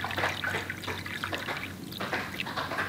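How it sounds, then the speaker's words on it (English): Water being poured into the reservoir of a Makita DCM501Z cordless coffee maker, a steady close trickling and splashing of liquid that runs without a break. "I'm gonna pour some water in there up to the 240 milliliter"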